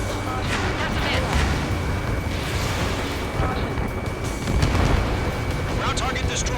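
Explosions of destroyed ground targets in the combat flight game Ace Combat 7: dense booming blasts and rumble over a constant jet roar, with a radio voice talking over it.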